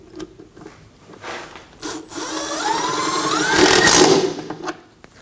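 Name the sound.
power tool driving self-tapping screw into Ford Edge fender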